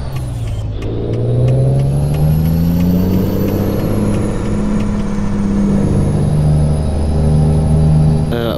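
A Kenworth truck in Euro Truck Simulator 2 idles loudly and steadily, a sharp air brake release hiss cutting in near the start, then the engine note rising and falling as it pulls away, close and continuous.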